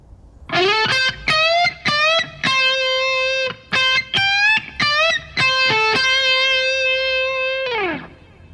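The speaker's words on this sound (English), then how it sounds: "The second time I played that lick, I bent into the notes." Overdriven electric guitar phrase where several notes slide up in pitch as they start, finishing on a long held note that dips at the end.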